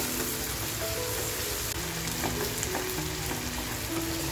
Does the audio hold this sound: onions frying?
yes